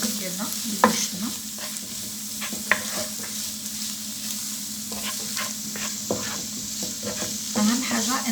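Cooked minced meat (kefta) with added spices is stirred in a pan, a steady sizzle running underneath while a utensil scrapes and taps the pan in occasional sharp clicks, close and clear with no talking.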